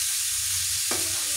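Ampalaya and egg being stirred in a hot frying pan, a steady close sizzle with a brief scrape of the utensil partway through.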